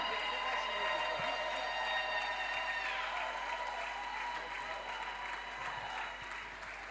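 A church congregation applauds and cheers in a sustained wash of clapping, loud and steady, with sung or held voices over it that fade after a few seconds.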